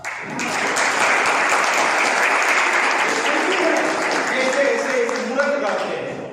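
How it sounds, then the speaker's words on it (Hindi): Loud, sustained applause from a seminar audience at a motivational success-mentor talk, a dense wash of clapping building quickly and holding steady for several seconds before easing slightly at the end. "तालियां जोरदार"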